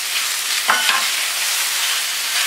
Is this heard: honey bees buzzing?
no